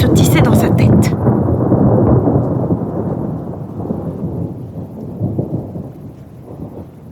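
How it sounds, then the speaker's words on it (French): A dull, rolling thunder rumble used as an audiobook sound effect, loud and booming at first, then a long, softer roll that fades unevenly. "Un bruit sourd, comme un roulement de tonnerre"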